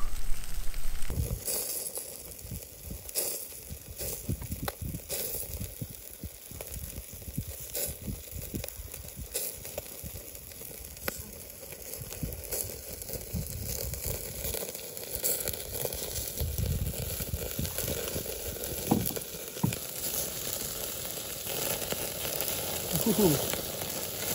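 Kokanee fish sizzle and crackle on a small grill aboard a kayak in the middle of a lake, a steady loud frying hiss with scattered pops and clatters as the fish are flipped, and someone talks and laughs over it.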